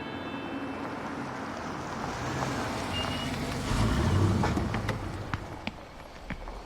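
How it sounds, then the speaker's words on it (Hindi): A truck rumbles in close while a steady reversing beep repeats, the low engine drone swelling as the vehicle approaches, with a few sharp clicks and knocks toward the end and no talking. "लो, गाड़ी भी आ गई।"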